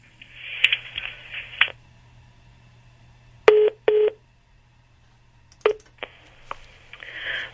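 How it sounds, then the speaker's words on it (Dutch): Telephone keypad tones sound while a call is being put through, with a few quiet beeps, then a string of sharp separate button presses with short gaps between them, clear and near over a low steady hum. "Meneer Opstelten, ik heb even een telefoon gevonden van iemand waarmee ik u door kan verbinden"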